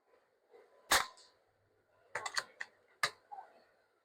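A Beeman Raider air rifle fires, a sharp, quiet crack near the start followed by a few softer clicks and handling noises in a quiet setting.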